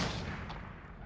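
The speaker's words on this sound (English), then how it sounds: "A lot of gunshots." Gunfire in the horror video game Layers of Fear, a dense, continuous rumbling barrage of shots that stays loud and steady throughout with no talking.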